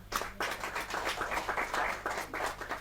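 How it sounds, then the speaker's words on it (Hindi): Steady clapping from a poetry recital audience, a brisk continuous patter of hands lasting a few seconds, moderately loud, with no talking. "जोरदार तालियां"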